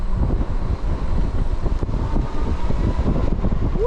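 Heavy wind buffeting the microphone while riding a Wallke H9 dual-motor electric bike outdoors, a loud continuous low rumble with gusty fluctuations and no talking.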